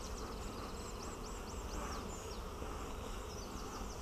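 During a spring inspection of an opened hive, a thick swarm of honey bees hums without a break, close and steady, with faint high chirps flickering above the buzz.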